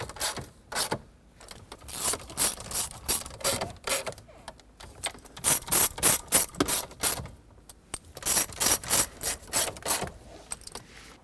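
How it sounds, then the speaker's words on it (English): Four screws driven in and tightened on a 2009-2014 Ford F-150 interior panel during a blend door actuator replacement, with rhythmic bursts of ratcheting clicks and pauses between screws. "Start the four screws back in and tighten them up."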